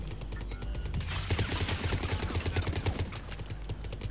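Rapid bursts of gunfire from Mass Effect 3 multiplayer combat, a dense fusillade of overlapping shots and impacts running steadily throughout at loud level.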